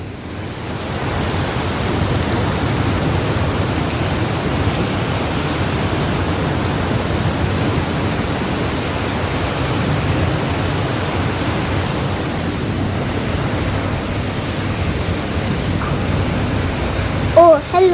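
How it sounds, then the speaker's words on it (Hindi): Heavy rain pours down in a dense, unbroken roar that stays constant throughout, with no voices over it. "तो फिर देखिए क्या बारिश हो रही है।"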